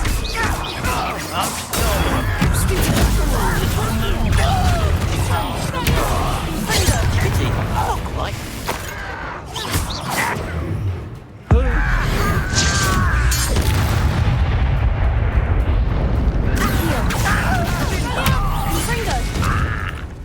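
Confringo fire-blast spells in Hogwarts Legacy combat: repeated booming impacts, crashes and clattering debris over a dense rumbling battle bed, loud and near, with a brief drop near the middle before the chaos resumes.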